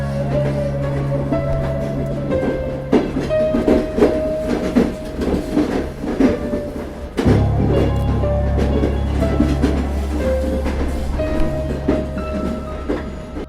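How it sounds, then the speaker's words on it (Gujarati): A train rolls past an old railway platform with loud, continuous rumbling and rhythmic clickety-clack of wheels, a sharp surge partway through as the cars pass close, with no talk. "દર રાતે અહીંથી એક ટ્રેન પસાર થાય છે"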